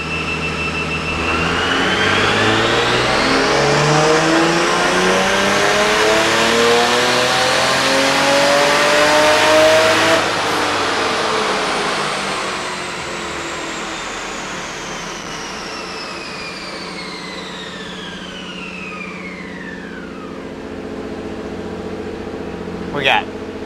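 A Nissan 350Z fitted with a 2JZ engine revs hard on a dyno, its pitch climbing steadily through a loud pull, then dropping off as the engine winds down and settles to idle.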